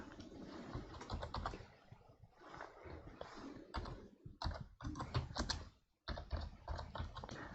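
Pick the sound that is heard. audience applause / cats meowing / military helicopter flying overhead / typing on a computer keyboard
typing on a computer keyboard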